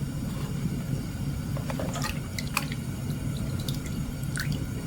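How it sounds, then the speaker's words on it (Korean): Milk and fresh cream poured into a wide pan for homemade ricotta, giving soft liquid splashing and dripping over a steady low background, with no talking. "넓은 팬에 우유와 생크림을 모두 넣어요."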